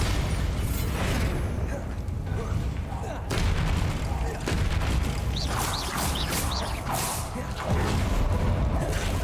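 Spell blasts from Confringo and Bombarda erupt in the game Hogwarts Legacy, a string of booming, crackling explosions with sharp bursts and rumbling low impacts over several seconds.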